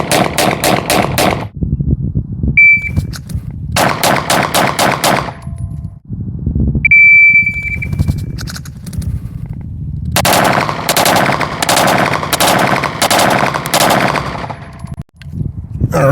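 Rapid strings of 9mm pistol shots from a KAHR CW9 during a timed shooting drill, several sharp close bursts separated by short pauses, with a longer volley toward the end.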